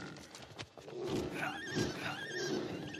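A horse neighs in the video game It Takes Two, with whinnying calls and some clip-clop hoofbeats, moderately close and alone without talk.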